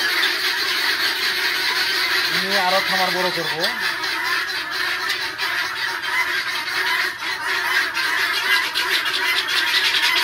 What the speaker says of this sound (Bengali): এই সকল মুরগিগুলা খুব চিল্লাচিল্লি করে